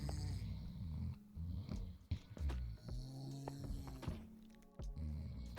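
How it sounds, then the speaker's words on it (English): Creatures in the Minecraft video game snore in uneven rasping breaths, low and close, with snorts and breaks between them. "They're snoring."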